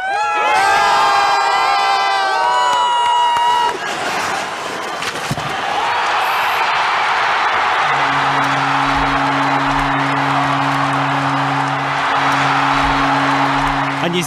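A large crowd of Russian fans cheers and shouts to celebrate an Olympic hockey gold won in overtime, loud and dense at first, then easing into a steady roar of broad crowd noise with a low sustained tone under it.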